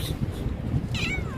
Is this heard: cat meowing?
yes